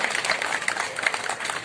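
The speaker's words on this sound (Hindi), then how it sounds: "और ताली होनी चाहिए" An audience at a talk on superstition in Minapur, Hajipur breaks into steady, dense applause. Many hands clap at once in a continuous patter at moderate distance, with no pause.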